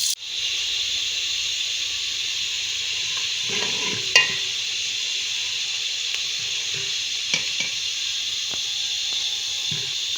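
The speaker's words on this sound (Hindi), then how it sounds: "प्याज का रंग सुनहरा होने तक हम इनको पकाएंगे।" Onions frying in a pan until golden, a steady hissing sizzle throughout with a few faint stirring knocks, close and even, no talk.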